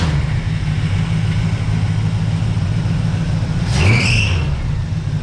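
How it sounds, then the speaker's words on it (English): A 1982 Camaro engine idles with a steady, loud rumble, then briefly revs near the end while its belts let out a short, high squeal. "When you're squealing the belts, you know you got it."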